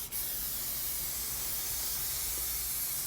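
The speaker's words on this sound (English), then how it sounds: "It's got that overspray action going, so everything gets nice and coated." A can of cooking oil sprays a steady, unbroken hiss across the inside of a Yoder Frontiersman offset smoker. The sound is close but soft and comes after a brief click at the start.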